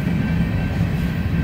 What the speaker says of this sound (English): sorry there's a train behind me